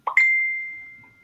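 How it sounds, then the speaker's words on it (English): A kitchen timer bell strikes once after a short soft knock, leaving a single clear, bright ring that hangs and fades out smoothly over about a second in an otherwise quiet room. "That must have been my bell, was it? I had the timer on."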